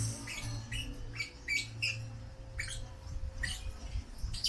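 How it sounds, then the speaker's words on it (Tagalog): A pair of African lovebirds kept indoors give short, bright chirps and squawky calls in scattered bursts, fairly faint over a low background hum, with no talking. "Look at the two budgies. They are African lovebirds."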